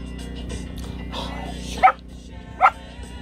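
A dog gives two sharp, loud barks close by, spaced under a second apart, amid quiet background noise and some indistinct voices.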